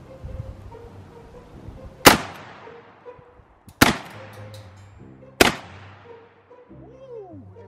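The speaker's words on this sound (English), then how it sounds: "I got 3 rounds of buckshot in this one. So we're gonna go do 3 shots of that." Three loud, sharp shotgun blasts of buckshot go off roughly a second and a half apart, each cracking hard and then echoing away, with quiet talk between and after the shots.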